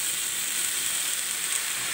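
Garlic, green chilli and leafy greens sizzling in a frying pan, a close, continuous hiss of frying with no pauses.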